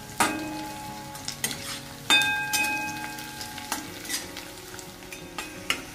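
Curry leaves and onion stirred in a hot pan for a Maharashtrian tomato chutney: a steady oily sizzle, broken by several sharp scraping strokes of the spoon as the mix is turned over, close and clear with no talking.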